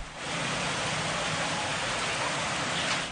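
Steady rain falls over a city street on a school-day morning, a dense continuous hiss that holds at an even level throughout without any voices.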